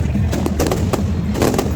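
Firecrackers bursting at a village temple fair, a rapid crackle of sharp pops over a dense, loud roar of crowd and festival noise throughout.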